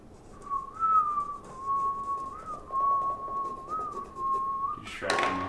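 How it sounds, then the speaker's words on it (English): A person whistles a steady, wavering melody for about five seconds while drawing, close and clear, ending in a brief rustle or thump. "Can you stop whistling?"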